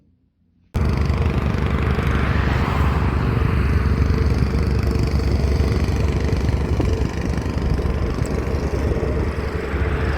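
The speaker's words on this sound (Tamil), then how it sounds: "இங்கே கன்ஸ்ட்ரக்ஷன் ஒர்க் நடந்துட்டுருக்கு" Construction machinery works at a fenced building site in Canada, giving off a loud, continuous engine drone that starts abruptly and runs steadily close by without letup.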